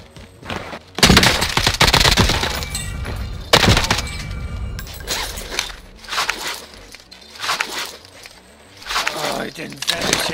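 Bursts of gunfire and crackling shots from the online shooter game Call of Duty Warzone, loud irregular volleys with thuds between them, heard under a player's excited talk.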